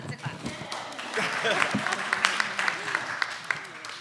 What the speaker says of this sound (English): It's a clap.